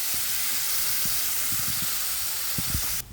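Mango pulp for jelly sizzling steadily in a hot wok, a continuous broadband hiss with a few soft crackles and pops, close and even throughout, ending abruptly.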